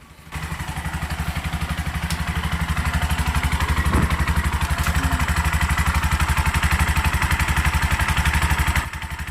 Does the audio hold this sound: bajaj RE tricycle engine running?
yes